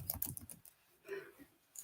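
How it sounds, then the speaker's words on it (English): Keystrokes on a computer keyboard arrive in a quick irregular burst, a brief pause, then a few more taps, fairly faint and close. "And then I can start typing in here."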